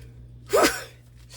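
A single close, sharp sneeze bursts out after a quiet pause, with an indoor room hum behind it and no talking.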